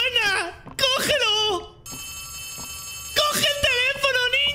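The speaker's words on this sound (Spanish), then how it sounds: "¡El teléfono suena!" In the Poppy Playtime game, a shrill telephone bell rings steadily for over a second, sandwiched between excited, shouting speech before and after it.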